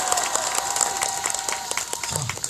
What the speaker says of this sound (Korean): 박수 다시 한번 주시기 바랍니다